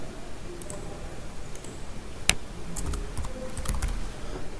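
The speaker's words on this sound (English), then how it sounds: "If you want to type in this cell, you will need to first click there and then you type." Keys clacking on a computer keyboard in short irregular bursts, close and moderately loud, with a few sharper isolated clicks over a low room hiss and no voices.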